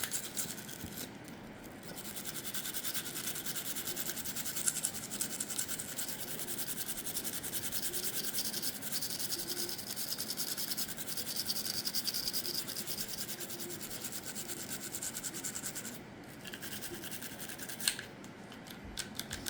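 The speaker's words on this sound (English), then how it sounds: "You're going to brush this trigger bar." Quick, steady bristle scrubbing on the trigger bar of an HK VP9SK pistol during cleaning, a close, continuous scratchy rasping with only brief pauses.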